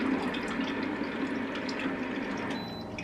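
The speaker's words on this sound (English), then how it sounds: "let's go and pop some hot water in here" Hot water pours steadily from an instant hot water filter into a cup, a continuous rushing and filling sound with no voices.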